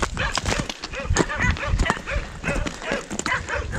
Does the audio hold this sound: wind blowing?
no